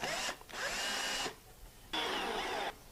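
A power drill drives pre-started screws into a 2x4 in two loud, sustained whirring bursts separated by a short pause, close and with no speech over it.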